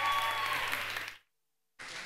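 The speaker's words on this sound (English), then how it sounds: "another round of applause for Elgin there, because that was a lot of names" Audience applause at a student union election results event, a dense wash of clapping that cuts out abruptly midway, then resumes after a short silence.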